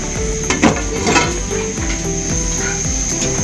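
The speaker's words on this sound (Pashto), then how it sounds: "اوبو زموږ سره خوټ وهلی و." Water at a rolling boil in a pot for kabuli pulao gives a steady bubbling, sizzling hiss, with a few light clinks of a pot or utensil near the start.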